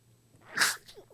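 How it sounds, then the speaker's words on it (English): A single close, sharp sneeze with a short breathy lead-in, bursting loud for about half a second, then a few faint breaths and small mouth sounds as the room falls quiet. "I'm not going to stop the video because I sneezed."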